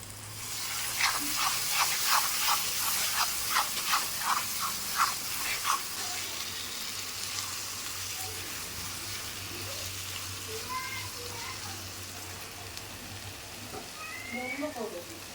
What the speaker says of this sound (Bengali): এবার আমি পেস্ট করা মশলাটা দিয়ে দেব। এখানে আছে পেঁয়াজ, আদা, রসুন আর লঙ্কা।